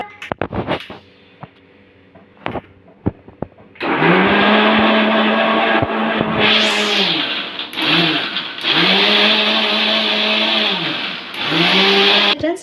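A few scattered clicks and knocks, then a mixer grinder roars to life grinding oats dosa batter, whirring loudly in bursts with brief pauses between runs.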